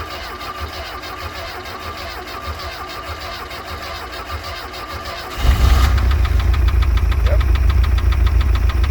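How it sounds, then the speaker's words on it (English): A Glastron Carlson CVX-16 boat engine cranks with a rapid rhythmic churn for about five seconds, then fires and settles into a loud, steady running rumble. A person says a single word. "we'll go ahead and crank it here and see if it fires up"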